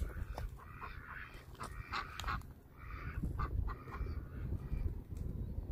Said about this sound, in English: you see the ducks?